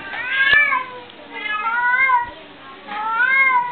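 A cat meowing three times in long, drawn-out, wavering cries, fairly close and clear, with a faint voice in the background.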